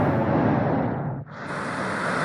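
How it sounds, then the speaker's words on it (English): Desert nature ambience: a steady, broad windy rush with a brief dip partway through, loud and constant, with no voices. "Sound of the desert"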